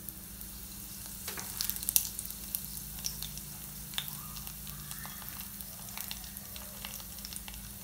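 Dried red chillies and lentils fry in hot oil for tamarind rice mix, a steady close sizzle with light crackles and occasional scraping stirs in the pan.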